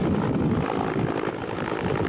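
A police air service rescue helicopter flies near Taipei's Grand Hotel, its rotor and engine giving a loud, continuous throbbing roar that fills the scene.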